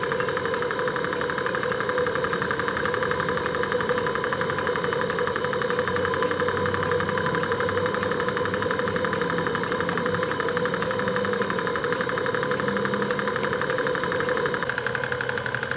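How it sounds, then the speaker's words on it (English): A steam engine with boiler pressure at 60 psi ticking over at about 500 revs, giving a steady mechanical chuff and knock that runs close and constant throughout, with no talking. "the engine just ticking over at the 500 revs"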